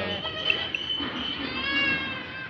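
Goats bleat among a herd of milking goats with their kids offered for sale, high wavering calls repeating briefly over a busy background while someone talks nearby.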